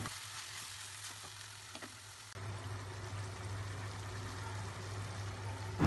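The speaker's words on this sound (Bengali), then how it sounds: "সব কিছু ভালো মতো ভেজে দিয়ে দিব ম্যারিনেট করা খাসির মাংসগুলো" Marinated goat meat fries in a pan with a soft, continuous sizzle that grows fuller and louder after a couple of seconds, ending in a sudden louder burst, no voices.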